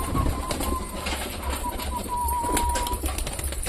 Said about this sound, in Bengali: দেখ পায়রাগুলো তো ঘরের ভেতরে ঢুকে যাচ্ছে, খাওয়ার জন্য পুরো পাগল হয়ে গেছে।